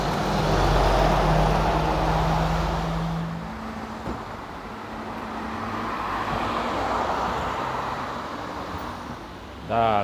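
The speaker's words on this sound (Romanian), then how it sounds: "Aha, traficul de pe Valea Prahovei." Road traffic along the Prahova Valley near Sinaia, with vehicles passing at a moderate distance in a steady, swelling and fading hum and a brief brake squeal at the end.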